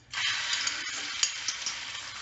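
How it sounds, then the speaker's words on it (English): Eggs sizzle steadily in a hot pan while jian bing is cooked, a continuous bright frying hiss that starts abruptly and carries a few soft clicks and scrapes from the spatula, with no talking. "I'm going to turn the heat up again and get the eggs in."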